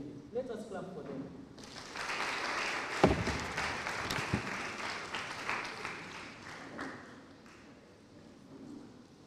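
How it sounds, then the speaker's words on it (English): Audience at a high school students' conference breaking into applause, a burst of clapping that swells and then fades over several seconds, with a voice speaking over it at the start. "Let us clap for them."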